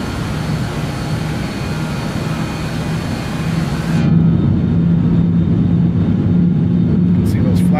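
Simulated BAe 146 four-engine jet in flight in a flight simulator, a steady loud engine roar that swells and broadens partway through, with talk over it.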